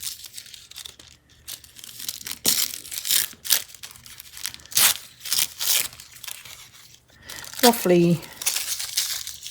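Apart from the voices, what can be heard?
tearing Tim Holtz collage paper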